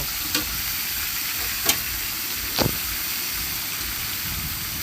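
Chicken meat frying in a spice paste whose oil has separated, cooked for a Bengali chicken curry: a steady, even sizzle throughout with a few brief scrapes from stirring, close by and with no talking.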